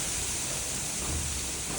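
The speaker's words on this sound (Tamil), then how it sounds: "இங்கே எப்படி காற்றடிக்குதுன்னு பாருங்களேன்" Steady, dense rushing noise of strong wind blowing continuously in Bangalore, with light rain spray, loud and close with no pauses.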